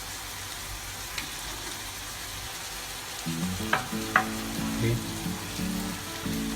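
Marinated chicken legs go into a pot already bubbling with tomato, onion, ginger and garlic for chicken biryani, bringing a close, steady sizzle and a few stirring clatters; someone briefly speaks.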